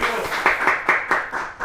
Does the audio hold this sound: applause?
yes